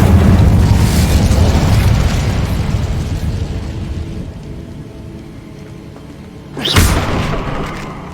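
Incendio fire spell blast in Hogwarts Legacy: a loud whooshing, roaring burst of flame that rumbles and fades over several seconds, followed by a second sharp flare near the end.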